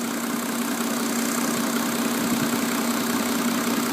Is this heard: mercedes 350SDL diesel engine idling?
yes